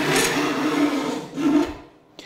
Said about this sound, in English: Filing the crosscut saw starts the same way as filing the rip saw by joining the teeth.